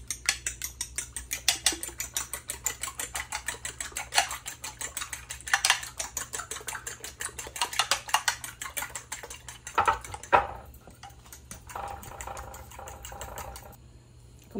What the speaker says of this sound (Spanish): Y ya los vamos a batir, miren.